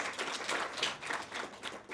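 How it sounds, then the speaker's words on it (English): Audience applause at a career fair, a steady wash of many hands clapping at moderate level throughout, fairly distant and without speech over it. "So let's give them a round of applause."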